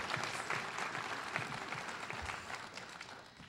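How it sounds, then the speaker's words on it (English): Audience applause at an awards ceremony, a steady wash of clapping from a crowd, moderately faint and fading slightly toward the end. "a huge round of applause to Lisa O'Coin for all the work that she's d"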